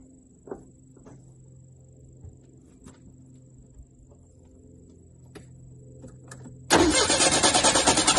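A Dodge Charger with a fuel problem, gas poured in by hand, turns over after a few faint clicks and catches abruptly into a loud, rough, steady idle close by.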